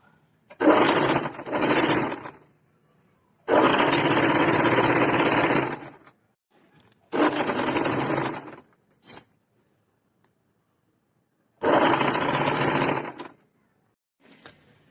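A sewing machine runs in several bursts of a few seconds each while stitching a strip onto an A-line kurti, loud and close, with quiet pauses between runs and no talking.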